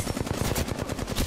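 Rapid automatic gunfire from the Apex Legends video game, a dense rattling burst of shots repeating quickly and steadily, loud and close throughout with no talk over it.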